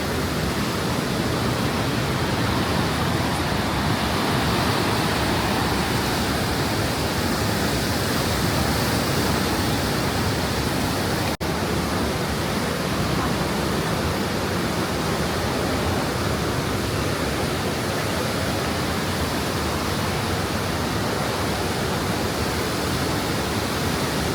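Niagara River whitewater rapids roar through the Niagara Gorge in a dense, unbroken wash of rushing water, loud and steady throughout with no voices.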